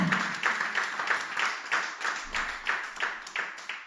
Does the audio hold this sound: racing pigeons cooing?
no